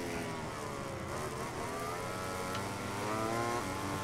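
A MotoGP 18 racing game with engines whining at high revs, a steady layered drone of several bikes close together with rising and falling pitch as they brake and accelerate.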